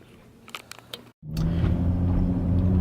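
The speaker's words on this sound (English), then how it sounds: "just been kind of driving around town, testing out the bumper" A Chrysler 300 with a new bumper driving around town, heard as a few faint clicks and then, after a brief gap, a steady close engine and road rumble that holds through to the end.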